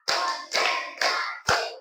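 Students clap in unison during a classroom focus-clap chant, four loud, evenly spaced group claps about half a second apart, each ringing briefly before the next.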